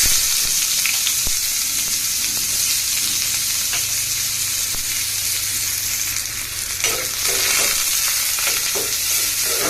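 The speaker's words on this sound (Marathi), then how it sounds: "तेल झालं जास्त चांगलं गरम, त्यामध्ये आता कांदा लागते." Chopped onion frying in well-heated oil, a steady, dense crackling sizzle that stays close and loud throughout, with a few louder pops and stirring scrapes toward the end.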